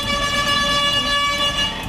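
A bus horn blares steadily and loudly for about two seconds over traffic rumble, close by, with no talking.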